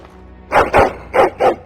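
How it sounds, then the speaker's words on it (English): A dog barks four times in two quick pairs, close and loud, against a quiet background. "What the hell are you barking at here?"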